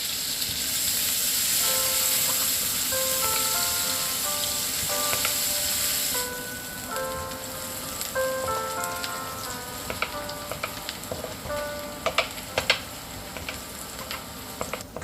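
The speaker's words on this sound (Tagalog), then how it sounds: "Bawang sibuyas at luya, sabay-sabay ko nang iginisa." Garlic, onion and ginger sautéing in hot oil with a spoonful of butter for chicken tinola, a steady close sizzle and crackle with scattered sharper pops near the end.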